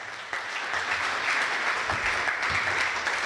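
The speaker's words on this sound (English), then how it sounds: "Lots of applause." Steady applause from a crowd, a dense wash of clapping that swells slightly and holds throughout.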